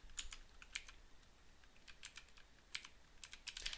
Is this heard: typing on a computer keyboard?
yes